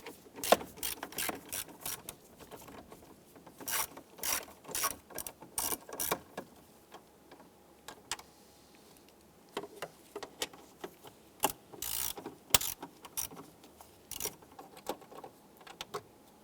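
Small 7mm screws on the gauge cluster of a 1995-2001 Ford Explorer are loosened by hand, giving a string of close, sharp ratcheting ticks and clicks in quick irregular bursts with short pauses between.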